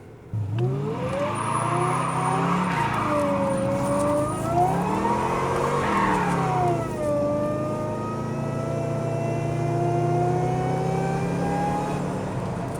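A 1998 Ford Crown Victoria P71 police interceptor with a Kenny Brown P2 Panther package revs hard through its gears, engine pitch climbing and dropping, with a loud steady roar and a squealing slide, heard from close by without talk.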